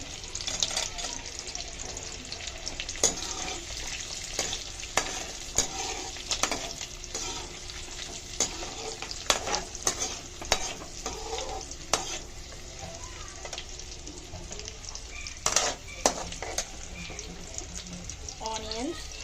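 Chili and cashew frying in oil with butter in a pan, a steady close sizzle with scattered stirring clatter and spoon scrapes throughout, for a restaurant-style chicken fry piece biryani.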